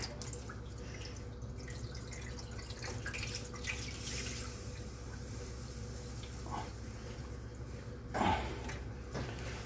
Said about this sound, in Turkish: Sonra soğuk suyumuzu koyuyoruz.